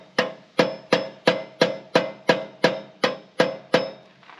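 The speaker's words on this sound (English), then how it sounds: "And for me, I'm kind of hammering it in." A part being hammered onto a Woodland Mills TFG55 PTO 5-inch wood chipper, where it fits too tightly: eleven sharp, evenly spaced metallic strikes, close and loud, each ringing briefly before the next blow.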